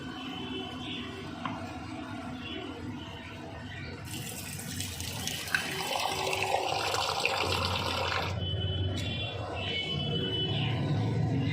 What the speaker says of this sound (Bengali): অল্প জল দিলাম, বেশি জল দিলাম না।